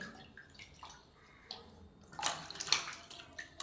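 Vegetables are rinsed under an outdoor water tap, with soft trickling that swells into a brief close burst of splashing near the end.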